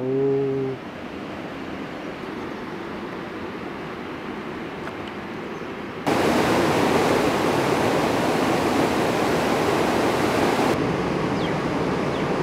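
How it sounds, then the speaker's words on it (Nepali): Jangbari waterfall, beside a cardamom garden on the Kanchenjunga trek in Nepal, gives off a steady broadband roar of falling water that grows louder partway through, with a brief hum at the very start. "वाओ, जङबारी झरना"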